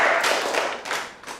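A few classmates clap in a classroom, a brief cluster of close, sharp hand claps with uneven spacing that taper off quickly.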